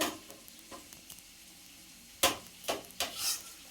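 Roasted spice powders are stirred into a sizzling fish curry pan. A soft background sizzle is broken by several sharp spoon scrapes and clatters against the pan near the end, with no talking.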